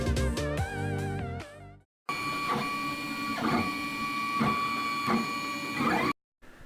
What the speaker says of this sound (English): Today I'm 3D printing wardrobe dividers to organize our closet